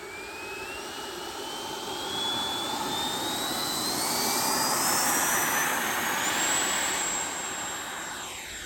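An FMS 80mm Integral RC jet with an electric ducted fan spools up for takeoff, a loud steady whine rising in pitch as it accelerates and roars past.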